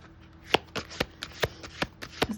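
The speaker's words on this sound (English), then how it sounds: "I'm going to go ahead and cut the deck" A deck of tarot cards being cut and handled up close: about seven crisp, papery taps and slaps spaced irregularly over a couple of seconds, with no talking.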